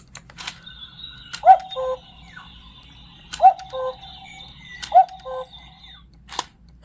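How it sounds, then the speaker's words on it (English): Wooden cuckoo clock from a ROKR 3D puzzle model calls three times at even spacing, each two-note cuckoo close and clear, with faint mechanical clicks and a quiet room hum between calls. "I hope you guys enjoyed that little demonstration of the cuckoo clock from ROKR"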